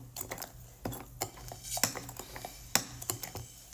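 A spoon stirring Milo mixed with Coke and vanilla ice cream, quick irregular clinks and taps against the glass, close and crisp, with no voices.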